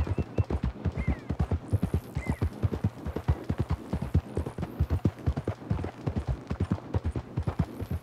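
Steady, rapid clip-clop of horse hooves trotting on hard ground in Red Dead Redemption 2, a continuous even rhythm without pause, fairly close and prominent.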